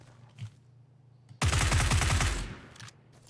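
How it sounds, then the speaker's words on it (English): Suppressed automatic gunfire from a PUBG game, a sudden loud burst of rapid shots lasting about a second, standing out clearly against quiet background sound. "More gunshots now, up to 10."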